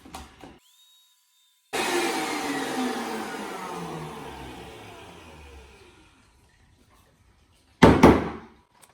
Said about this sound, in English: So I'm going to put it in the blender.